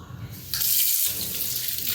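Water poured from a tap for noodles, a short quiet start followed by a sudden steady gushing stream that runs loud and close to the end.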